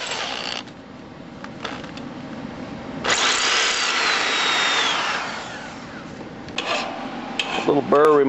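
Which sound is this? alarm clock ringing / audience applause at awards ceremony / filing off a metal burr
filing off a metal burr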